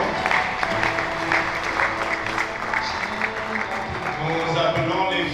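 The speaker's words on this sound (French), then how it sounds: "Nous les encourageons par les acclamations." Applause and cheering from mourners at a funeral, a dense continuous clatter of many hands with voices mixed in, steady and fairly loud throughout.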